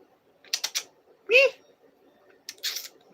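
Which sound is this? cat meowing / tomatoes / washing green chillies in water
cat meowing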